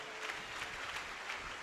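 A church congregation claps loudly together during worship, a dense, steady wash of applause with rhythmic accents, filling the whole short moment without talk.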